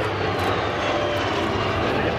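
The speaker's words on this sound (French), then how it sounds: "le vacarme produit par cet avion qui, je n'en doute pas, vous a littéralement rendu sourd" An Airbus airliner flies past at the La Ferté-Alais airshow, its jet engines producing a loud, steady, broadband roar that fills the whole moment without a break.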